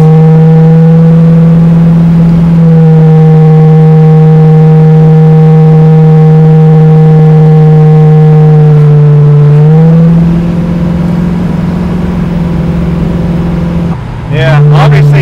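A 1974 AMC Javelin hot rod accelerates in second gear, its engine giving a loud, steady droning tone that climbs in pitch partway through and dips near the end.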